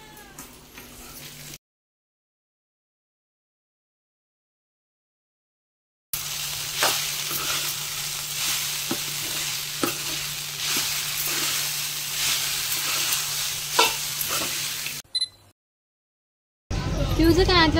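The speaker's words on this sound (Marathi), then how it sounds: "मस्त मिक्स करते." Food frying in a pan while being stirred, giving a steady close sizzle with light scraping strokes that runs for about nine seconds between quieter gaps, with brief voices around it.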